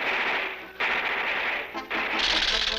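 Cartoon gunfire aimed at Underdog, rapid machine-gun bursts forming a dense crackling roar in three long runs split by brief gaps, loud and up close over a noisy soundtrack.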